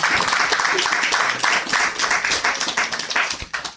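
An audience claps for a group of children at a gathering, steady dense applause rolling on for several seconds at close range, fading slightly toward the end.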